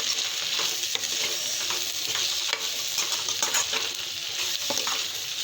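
Chili powder sizzling and frying in a nonstick pan, stirred with repeated scraping strokes over a steady close crackle, no talking.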